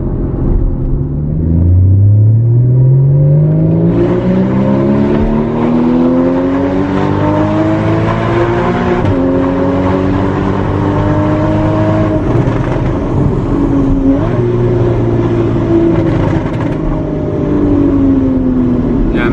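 A loud Porsche Cayman S driving on a road, its engine note sweeping up through gears with strong rising harmonics and a deep rumble, close and sustained, with no talking.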